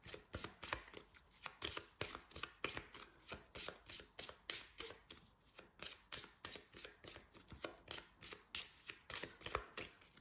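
A stack of level 2 cards for the Tales of Nine board game is shuffled by hand in a steady, rapid riffle of soft papery flicks, close and quiet, with no talking.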